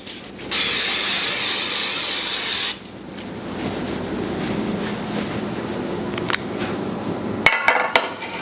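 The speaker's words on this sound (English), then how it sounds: "I'm going to spray it with some Pam" A loud two-second hiss of Pam aerosol cooking spray into a casserole dish, followed by quieter clinks and handling sounds of the dish.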